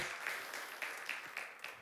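Church congregation applauding at a service, a short, moderately faint burst of clapping with a few sharper claps standing out.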